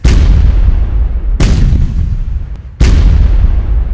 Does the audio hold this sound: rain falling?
no